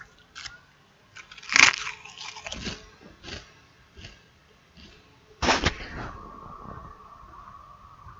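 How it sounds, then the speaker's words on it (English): Someone eats Pringles potato crisps close to the mic during a game stream: sharp, loud crunches and bites come in uneven bursts, with softer chewing between them and no speech. "you might hear me munching on Pringles"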